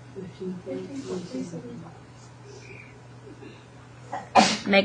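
A single sharp sneeze bursts out near the end, following a stretch of quiet talking and faint room hum in a classroom.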